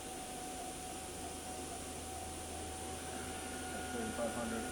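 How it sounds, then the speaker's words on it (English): A Fadal vertical machining center's high-RPM direct-drive spindle, capable of 15,000 RPM, whines steadily with sustained tonal hum under broadband machine noise, rising slightly near the end as it spins up from 1500 RPM. "The spindle was running there at 1500. Now we're going to go up."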